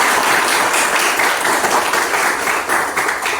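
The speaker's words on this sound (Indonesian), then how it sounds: "tepuk tangan buat kita semua" A group claps together in a classroom-style session, a steady, dense wash of applause filling the whole stretch at close range, fading slightly toward the end.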